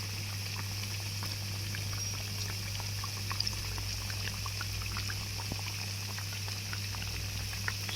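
Chandrakanthulu sweets fry in a pan of hot oil, a steady soft bubbling with scattered small crackles and pops, moderately close and without talk.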